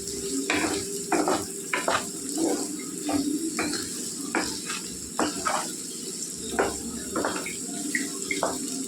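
Carrot and potato pieces sizzle steadily in a pan, with repeated scraping taps of a spatula as they are stirred at close range.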